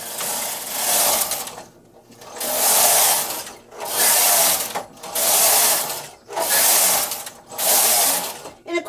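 Singer knitting machine carriage pushed across the bed knitting rows, a loud rasping mechanical swish repeated in regular strokes about every one and a half seconds with brief pauses between passes.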